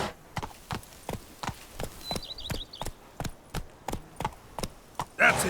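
In The Witcher 3, the horse Roach gallops with a quick, steady clip-clop of hooves on firm ground. The beats stay close, clear and even throughout.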